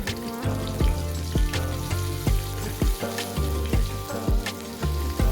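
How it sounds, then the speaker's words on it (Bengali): Cumin, ginger paste and chopped green chillies tempering in hot oil crackle and sizzle loudly and steadily, with regular thumping knocks repeating throughout. "এবার ওই তেলের মধ্যে হাফ চামচ জিরে, 1 চামচ আদা বাটা, 2টি কাঁচা লঙ্কা কুচি ফোড়ন দিয়ে দেব।"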